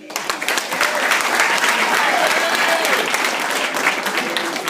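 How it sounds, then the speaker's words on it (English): Wedding guests applauding the DJ at a reception, a dense, loud, sustained wash of clapping with scattered voices and cheers mixed in. "ladies and gentlemen, a round of applause for the DJ"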